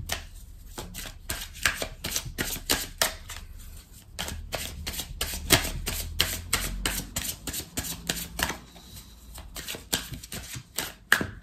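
Oracle cards shuffled and cut by hand: a long run of sharp, close papery flicks and snaps in a quick, uneven rhythm, with no talking.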